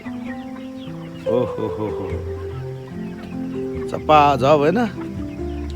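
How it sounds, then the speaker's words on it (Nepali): A two-month-old chicken gives two short, rising clucking calls close by, one early and a louder one near the end, while a person speaks between them. "ए साथी हो मेरो 2 महिना 11 दिनको कुखुरा हो यो"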